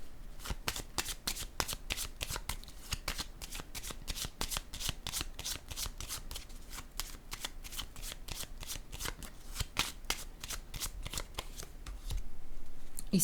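Tarot cards being shuffled and drawn: a dense, steady run of crisp riffling flutters that continues for several seconds, close and fairly loud, with a brief shift in texture near the end.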